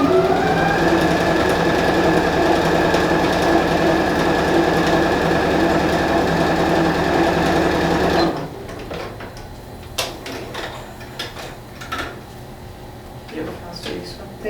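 Sewing machine stitching overlapped fabric strips for a placemat, a loud steady close-up mechanical whir that runs continuously for several seconds then stops abruptly, leaving quieter handling clicks and faint room sounds.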